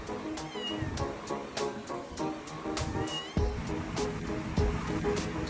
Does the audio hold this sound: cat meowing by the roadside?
yes